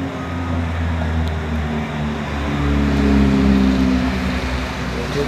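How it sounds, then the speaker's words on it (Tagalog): Cars passing on a road outside a gate, a loud continuous traffic rumble that swells as a vehicle goes by in the middle and then eases. "Medyo maingay yung ating mga sasakyan dumadaan."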